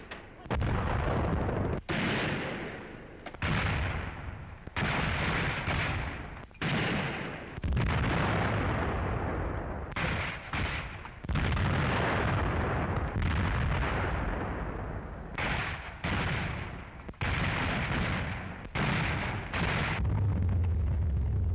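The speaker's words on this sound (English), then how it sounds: "Der Franzose, der immer wieder versucht, die Verfolgung aufzuhalten, belegt das Gelände mit Artilleriefeuer." Artillery shells the terrain in a series of heavy, booming blasts that land repeatedly, some close together and some separated by short pauses, loud and rumbling across the whole stretch.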